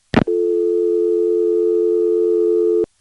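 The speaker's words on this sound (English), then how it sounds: "Here's picking up and getting a dial tone from scratch." Dial tone from a 1977 No.1 EAX local/toll telephone switch in Rock Hill, South Carolina: a brief click on pickup, then a loud, steady, unbroken tone lasting a few seconds, cut off by a final click.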